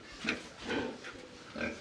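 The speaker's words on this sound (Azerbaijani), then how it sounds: "Burada donuzlar var." Pigs close by give several short, nasal grunts in an uneven rhythm, four bursts in under two seconds, with no talking over them.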